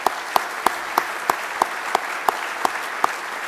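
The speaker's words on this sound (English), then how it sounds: "I want to suggest one more round of applause for all three of our honorees for their accomplishments." Sparse, evenly spaced claps from a dinner audience at a Hall of Fame dinner, about ten sharp hand claps in a steady rhythm, fairly close and moderately loud.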